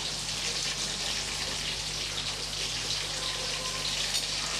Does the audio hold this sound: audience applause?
no